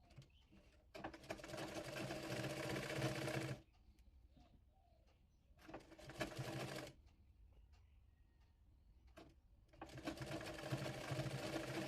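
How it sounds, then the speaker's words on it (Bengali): A sewing machine stitches a frill onto the design fabric of a baby frock in three loud, rapid whirring bursts, with quiet pauses between them. "কুচির কাপড়টি ডিজাইনের কাপড়ের উপরে রেখে সেলাই করে নেব।"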